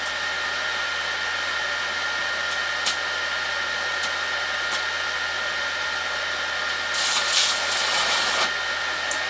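A Minleaf ZX7-250 inverter stick welder arc welding with a warmed rod gives a constant loud hiss and crackle, with occasional sharp pops and a brief harsher burst near the end.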